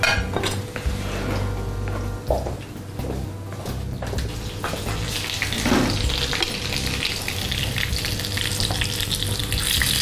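Food fries in a pan with a steady close sizzle, broken by clinks and scrapes of a utensil against the cookware as it is stirred and turned, moderately loud and without talk.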